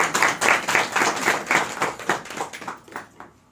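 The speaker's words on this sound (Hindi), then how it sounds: "अरे वाह, तालियां बजाओ।" A small group claps in a classroom-style spiritual session, a loud burst of quick, uneven hand claps that gradually thins and fades toward the end.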